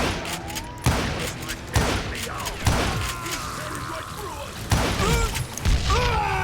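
Repeated gunshots ring out in the Western shooter game Call of Juarez Gunslinger, loud sharp cracks spaced every second or so, with background game effects and a player's voice talking over them.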